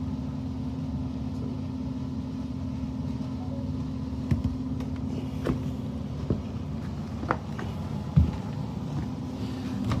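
Steady low motor drone of a home AC system's indoor blower fan running continuously, with occasional faint clicks and knocks over the hum.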